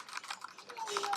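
Keystrokes on a Keychron K2 mechanical keyboard with brown switches, a close run of quick, crisp taps in an irregular rhythm.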